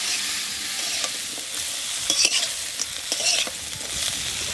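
River crab from the Sundarbans fries in a pan as it is stirred, a steady sizzle with repeated scraping stir strokes, close and moderately loud with no voices.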